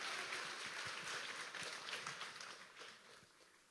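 Applause from the audience at a dance school's spring show, greeting guest performer Stefan; a steady, fairly quiet wash of clapping lasting a few seconds and fading slightly toward the end.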